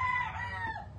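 A brief crow or call comes from an Asil Baby Bulls rooster kept with hens on a farm. It is close and fairly loud, a single drawn-out cry with low clucking beneath it.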